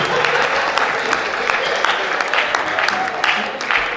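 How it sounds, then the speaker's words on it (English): Audience applause at a national mental health act sensitization workshop, steady dense clapping throughout at moderate level, with no break. "I think we deserve a round of applause."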